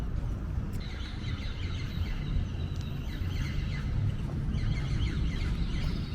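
Pigeons in the main square of Merida make a steady wash of cooing and flutter against constant outdoor crowd and street noise, with no clear talk.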